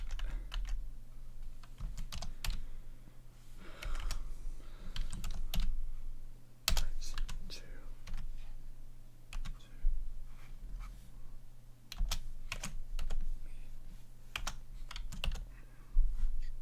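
Steady typing on a computer keyboard, irregular bursts of key clicks with brief pauses, fairly close and alone against a low background hum.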